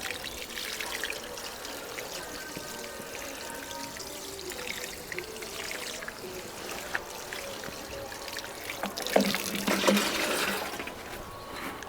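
Water pours from a watering can onto a gutter of pea seedlings. It makes a soft, steady trickling stream for several seconds and swells briefly toward the end.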